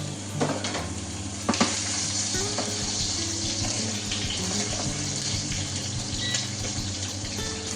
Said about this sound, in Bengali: একের পর এক চিকেন আমি ঢেলে দিচ্ছি এক ফুট করে